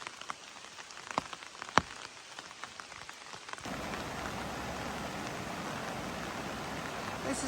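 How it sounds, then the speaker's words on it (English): Rain pours down steadily on a road walk along the Appalachian Trail, a dense even hiss that begins abruptly partway through after a few scattered drips and clicks. "Doing our road walk in the rain"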